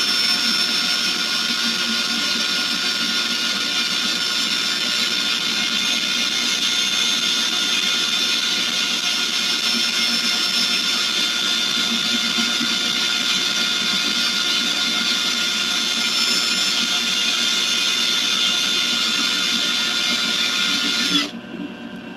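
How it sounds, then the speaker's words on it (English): Sanding the inside of a wood-turned piece on a spinning lathe: a loud, continuous whirring grind with a steady whine that holds for about twenty seconds before cutting off abruptly near the end. "Sanding help smooth things out on the inside quite a bit"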